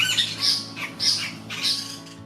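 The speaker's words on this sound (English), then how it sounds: "great kiskadees were present. More unusually they seemed to be squabbling amongst themselves" Great kiskadees squabble in a run of harsh, loud squawking calls, three or four bursts in quick succession, close by and with no other sound competing.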